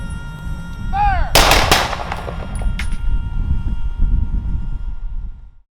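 A gun salute for a master sergeant fires one loud, sharp volley followed by a lighter crack, with short echoing tails and a whistle-like chirp just before the first shot.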